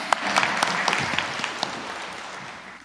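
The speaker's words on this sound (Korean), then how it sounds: "영광의 박수 올리겠습니다" Church congregation applauding during a Sunday service, a dense, steady round of clapping with a few sharper individual claps standing out, gradually thinning toward the end.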